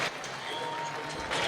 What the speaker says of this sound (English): the Orange faithful rising, applauding the effort